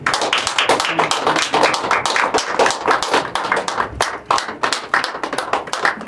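A church congregation claps together to acclaim the Lord, sustained and fairly loud, with a quick, steady rhythm of many hands.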